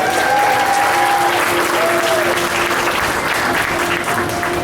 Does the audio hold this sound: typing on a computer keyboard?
no